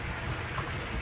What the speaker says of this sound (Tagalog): Lakas talaga ng ulan, eh. Bagyo to, bagyo.